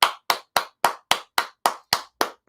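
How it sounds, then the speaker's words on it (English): Ten crisp hand claps in a steady, evenly spaced rhythm, close and dry, each short smack cutting to silence before the next. "Give yourself a hand clap."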